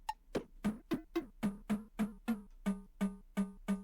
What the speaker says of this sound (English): Cowbell.